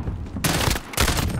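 Burst-fire weapon in the video game Call of Duty: Modern Warfare, two loud close bursts of rapid gunshots separated by a short pause, with no talking over them.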